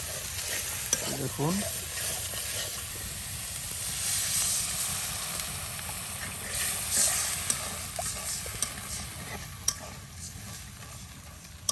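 Bottle gourd and shrimp stir and sizzle in a hot pan, a steady frying hiss with scraping stirs, close and moderately loud, while a voice speaks briefly.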